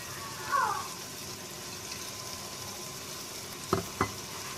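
Tomatoes cooking in a pan with spinach and potatoes for aloo palak give off a steady soft sizzle, with a couple of brief clinks of stirring near the end.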